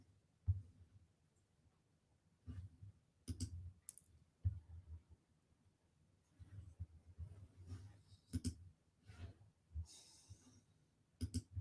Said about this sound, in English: I'm just going to do a little bit of clicking here